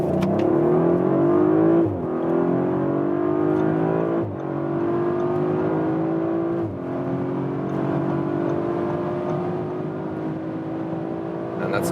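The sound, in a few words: Audi RS5 Coupé all-wheel drive accelerating from 30 km/h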